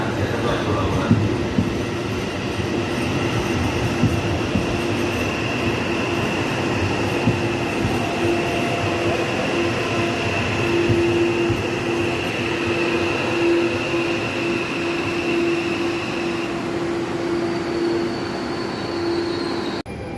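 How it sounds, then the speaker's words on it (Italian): A regional train of the Ferrovie Udine Cividale line rumbles steadily close by for about twenty seconds, with a sustained metallic hum and faint wheel squeal over the rolling noise. "Il treno regionale 76 di Ferrovie Udine Cividale delle ore"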